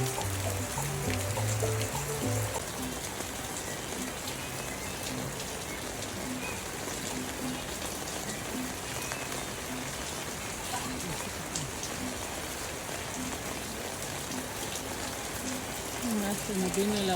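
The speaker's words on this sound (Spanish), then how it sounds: "Se nos vino el aguacero." Heavy rain pours down in a dense, constant patter on surfaces around a tent on Christmas Eve, with faint voices murmuring underneath.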